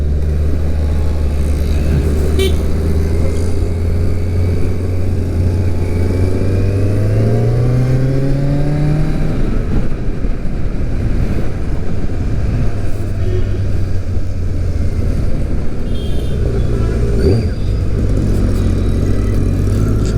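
A Kawasaki Z900 motorcycle ridden through Chennai after a service, its engine droning loudly and steadily with the pitch climbing through acceleration midway, over constant wind and road rush, with no talking.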